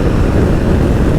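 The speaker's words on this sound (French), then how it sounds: "Le moteur Guzzi par essence est un V face à la route" A Moto Guzzi Stelvio with its transverse V-twin engine, heard while riding, produces a loud, dense low rumble that stays even and unbroken, with no voices.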